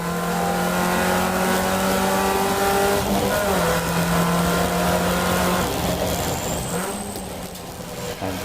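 A race car circuiting Brands Hatch, its engine droning loudly and shifting pitch as it slides out of balance, with a brief tire squeal near the end and no speech over it.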